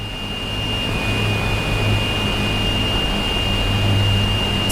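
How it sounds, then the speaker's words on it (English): A warbird's wheels whistle while landing in the DCS flight sim: a thin, steady high whistle holds over a constant broad rumble of engine and air noise, with no voices. "there's the wheel whistle"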